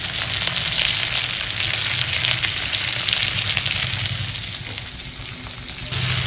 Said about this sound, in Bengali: তারপর একটা গোটা পেঁয়াজ, মিডিয়াম সাইজের গোটা পেঁয়াজ দিয়ে দিচ্ছি